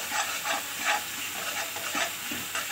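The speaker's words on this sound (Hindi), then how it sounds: "तो अच्छे से हम भून लेंगे।" Masala roasts in oil for a green chickpea nimona while a spoon stirs it, producing a moderate continuous sizzle with soft rhythmic scraping strokes.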